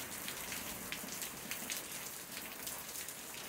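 Steady rain falls on a farm plot in the sertão of Paraíba, a soft even patter of drops on surfaces with no voices, fairly quiet and unbroken throughout.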